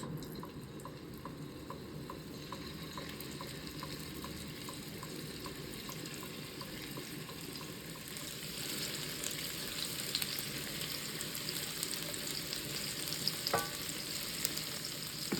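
Meatballs sizzle steadily in a small amount of oil in a hot frying pan, a dense continuous crackle that grows a bit louder midway, with a faint light tick near the end and no talking.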